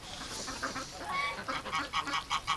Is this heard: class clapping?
no